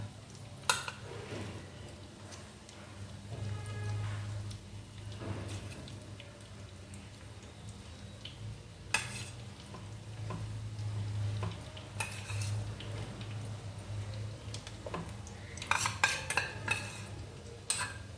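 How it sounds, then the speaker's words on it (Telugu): Stuffed brinjals frying with gravy in a pan, a steady low sizzle with occasional spoon scrapes and clinks against the pan, close and continuous. "ఈ గ్రేవీ కూడా దీంతో పాటు ఇలాగా వేగిపోతుంది"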